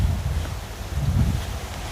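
Strong wind blowing hard across the microphone in a rural outdoor setting, a steady low rumbling roar with gusty swells and no talk.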